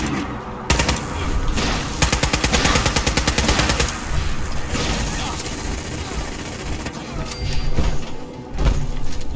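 Gunfire in the video game Fallout 4: bursts of rapid automatic fire alternating with single loud shots and mechanical clatter, close and intense, with pauses between volleys.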